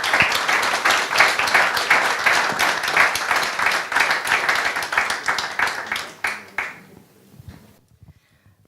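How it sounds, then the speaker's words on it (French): Loud audience applause at a French event, rhythmic clapping that swells steadily, then thins and fades out to near silence over the last couple of seconds. "Mesdames, Mesdemoiselles, Messieurs, applaudissez."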